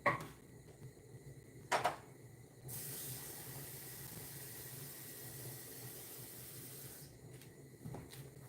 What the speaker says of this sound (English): So I'll add some water to the pot for the steam.